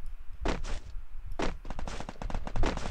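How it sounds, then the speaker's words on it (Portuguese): Gunfire is exchanged in an online shooter game, with bursts of rapid shots and muffled thumps of varying distance crowding together over a few seconds, mostly continuous with short gaps. "Trocando tiro, vem, Vral."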